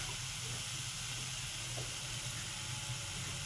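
Chicken sautéing in a pan with ginger-garlic paste gives a steady, even hiss and sizzle that runs unbroken throughout, fairly soft and with no voices over it.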